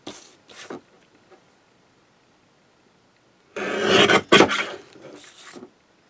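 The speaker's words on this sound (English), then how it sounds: "And start cutting my cards out." Printed paper cards are cut along grid lines, giving short dry rasping bursts: a couple of quick ones, a pause, then a longer rough stretch, close and alone.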